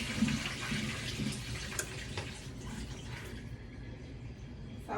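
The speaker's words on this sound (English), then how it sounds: "Let me dump my water out of my apples." Water pours and splashes out of a bowl of apples into a sink, steady at first, then trailing off into quieter trickles and drips near the end.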